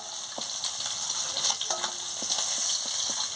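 Rohu fish frying in a pan: a continuous bright sizzle of hot oil, steady and close, with a few small pops and no voices.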